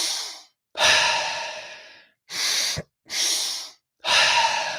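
Deep, relaxed exhales during a breathwork session, several long breaths in a steady rhythm, close and fairly loud, with no talking.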